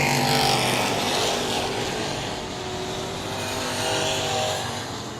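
Race cars roar around the South Texas Speedway oval, a loud continuous engine drone that swells and fades slightly as the pack circles, with no voices over it.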